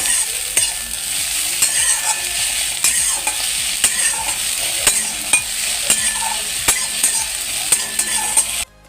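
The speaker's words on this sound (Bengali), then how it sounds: "এরপর এর মধ্যে দিয়ে দেব পরিমাণ মতো লবণ দিয়ে ভালো করে নেড়ে নেব" Mashed pumpkin leaves stirred with salt in a hot pan, a steady sizzle with regular scraping strokes of a spoon against the pan, close and continuous with no voices.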